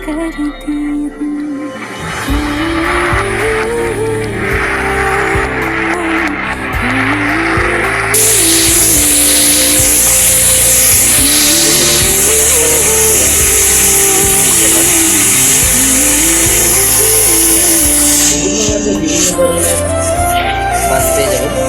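A Bangladeshi bus is driven in a video game, with a loud continuous engine drone that rises and falls in repeated gear-shift cycles, plus a stretch of heavy hissing noise like rain or road spray.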